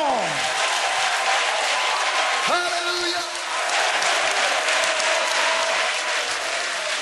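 A church congregation in Techiman, Ghana, claps and cheers in praise of God in a dense, sustained burst of applause, with voices calling out over it.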